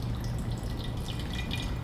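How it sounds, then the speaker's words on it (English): Hot water trickles and splashes softly as it is poured over a paper filter in a V60 coffee dripper, a faint, continuous liquid sound. "Rinse the paper with hot water."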